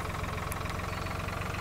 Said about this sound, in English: Now, I'm jumping back to the farm and gonna take this nice red tractor